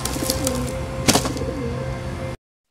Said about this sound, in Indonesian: kemudian merpati itu dilepaskan begitu saja dan nantinya merpati itu akan sampai ke Bobby